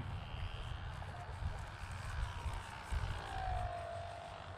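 A Nanchang CJ-6 propeller trainer passes over an airfield on its approach to land, its engine drone steady and moderately distant, with a faint pitch glide as it goes by.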